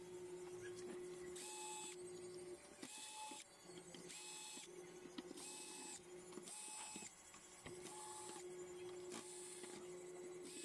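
A steady mechanical drone runs throughout, with bright bursts of high whirring that repeat every second or so, like a grinding machine cycling on and off nearby.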